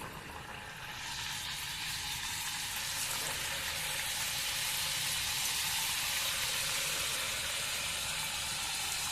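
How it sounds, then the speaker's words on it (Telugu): Telangana sakinalu, crisp brown-rice snacks, drop into hot oil and fry with a steady, dense sizzle that swells after the first second and holds loud and even, without speech. "ఇంకా ఆయిల్ కాగింది, వేద్దాం ఒక్కోటి నిదానంగా."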